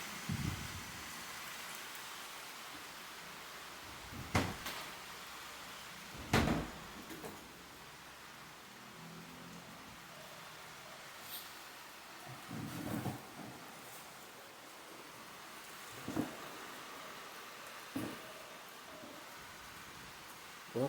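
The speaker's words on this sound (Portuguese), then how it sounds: "Eu quero pedir licença a vocês, que começou a chover um pouco aqui" Light rain falls steadily outdoors as a constant hiss, broken by a few louder isolated taps and knocks every few seconds, fairly faint overall.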